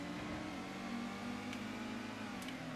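A car engine in the Gran Turismo racing video game drones at a steady, sustained rev, a constant mid-pitched hum with a slight whine and no voices over it.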